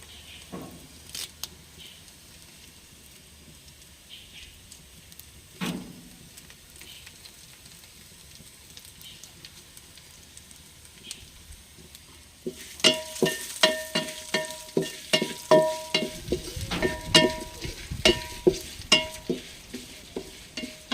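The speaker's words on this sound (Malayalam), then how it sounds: "ഞാൻ ഇനി കറിവേപ്പില ഇട്ട് കൊടുക്കുകയാണ്" Curry leaves drop into a hot pan with small onions and crackle busily, the faint stirring early on giving way to a burst of rapid, sharp popping and sizzling that sounds close and continues to the end.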